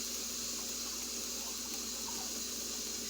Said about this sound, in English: what I'm about to do now is add a little bit more water